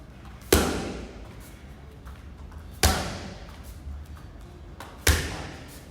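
Three heavy Muay Thai uppercut power punches land on pads, each a sharp smack with a short decaying tail, spaced about two seconds apart in a quiet training room.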